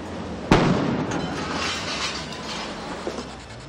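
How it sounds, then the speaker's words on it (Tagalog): A single sharp blast cracks out early during a residential fire in Santa Mesa, Manila, followed by a rumbling, crackling wash of noise that slowly fades. "Nagkaroon din ng malakas na pagsabog."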